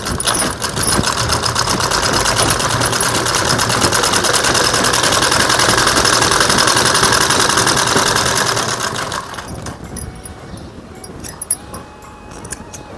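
Sewing machine stitching at home in a fast, continuous rattling run for about nine seconds, then stopping, leaving faint handling noises and small clicks.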